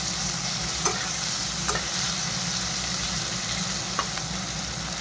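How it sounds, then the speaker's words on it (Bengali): Chopped onions frying in a pan until reddish for an egg korma, a steady close sizzle with a few sharp spoon taps and scrapes against the pan, and no voices. "এখন একটু ভালো করে পেঁয়াজটা লাল লাল করে ভেজে নেব।"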